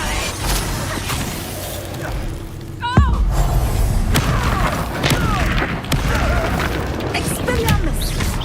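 Spell effects for Flipendo and Depulso in Hogwarts Legacy: a sharp booming impact with a whooshing, chirping magical swirl over a busy game soundscape, followed by further thuds and swishes throughout.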